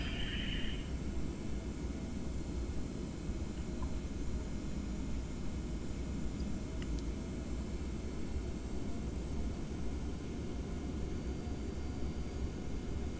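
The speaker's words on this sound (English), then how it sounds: "Somebody's just taxiing straight through us, another Delta jet." A Delta jet taxiing close by in a flight simulator, heard as a steady, continuous low engine rumble and broadband roar that holds level throughout, with no talking.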